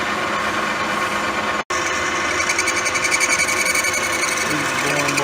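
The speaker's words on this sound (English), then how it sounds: "here I'm boring out the main shaft hole with that boring bar" A boring bar cuts out the main shaft hole of a 14-inch wood bandsaw part on a machine, giving a steady, dense metallic whir and chatter, loud and close, with one brief cutout early on.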